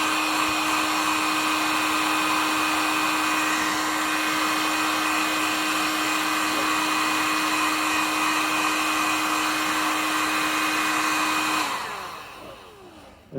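A heat gun blows hot air onto a coating inside a cold van with a steady, loud whirring roar and a high whine. It cuts off abruptly near the end, leaving quiet fade-out.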